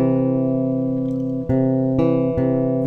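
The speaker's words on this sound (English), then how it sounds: "Now a major third is an interval of four semitones," Bass guitar plays a major third: two low notes sustain together, then three sharp plucked re-attacks ring out in quick succession, close and solo without speech.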